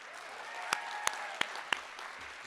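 A few scattered, sharp handclaps, about four separate claps spread over a couple of seconds, sound faint and distant above a low hiss as an awards-ceremony audience acknowledges the student mentors.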